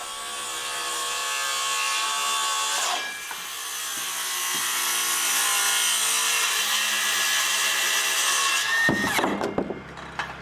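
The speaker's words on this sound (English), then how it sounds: "We decided to go through and pre-cut every single rafter using one of our mock-ups" Wooden roof rafters being pre-cut with a power saw, a loud sustained whining buzz that dips briefly mid-cut, then breaks into rattling clunks as the cut finishes.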